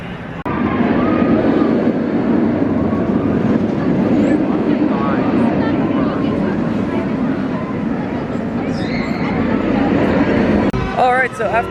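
Ride on the B&M Vortex roller coaster at Carowinds, a steady loud roar of wind and rumbling track noise throughout, with some voices in the mix.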